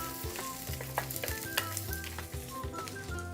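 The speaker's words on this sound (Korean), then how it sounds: "먼저 콩단백을 볶다가 바로 채소, 야채, 버섯을 같이 넣겠습니다" Soy protein stir-fried with vegetables and mushrooms in a pan for a vegan bibimbap makes a close, busy sizzle, with repeated scraping and clattering strokes of the utensil against the pan.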